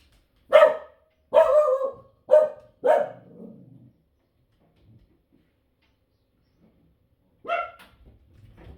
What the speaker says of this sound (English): Slightly interrupted by a puppy dog